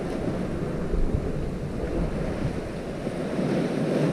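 Ocean waves at Caleta de Fuste, Fuerteventura, heard from a fishing spot on the shore: a continuous, fairly loud wash of surf with wind buffeting the microphone and no voices.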